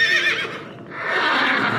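A horse mount in World of Warcraft neighs loudly and up close in one long whinny that runs the full length, with faint hoof clip-clop underneath and no talk.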